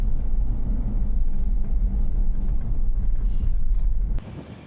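Strong wind buffets the microphone outdoors during an Ironman training ride, a loud continuous low rumble and roar that runs steadily for about four seconds, then drops away abruptly.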